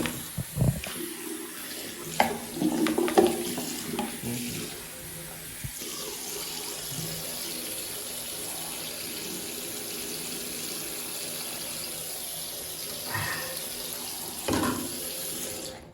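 A tap runs steadily with water gushing into a sink, a continuous hiss with a few louder splashes and clunks near the start and end, close by, heard alone with no talking.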